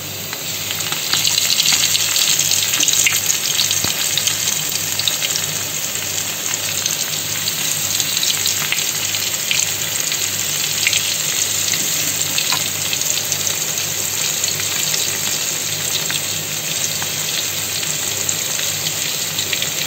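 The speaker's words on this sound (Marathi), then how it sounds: "त्यामध्ये आता हे सगळे फ्राय करून घेऊया" Food frying in a pan, a loud, dense, continuous crackling sizzle that holds steady for the full length with no pauses and no voices.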